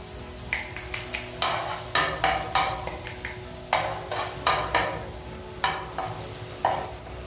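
Garlic sizzles in hot oil in a pan, a steady crackling fry broken by repeated scraping stirs of a utensil, close and moderately loud, with no talking.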